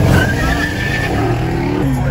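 A Dodge Durango Hellcat or Scat Pack 392 Charger wide-body stomps out hard on a street, its engine roaring loud and close with tires squealing, music playing over it.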